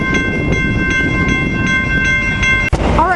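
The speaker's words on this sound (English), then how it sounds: "great train there. It goes all the way north to Oceanside." A train passes close by in San Diego's quiet zone, a loud steady rumble of wheels on rails with a sharp transient near the end followed by a brief rising tone, no talking.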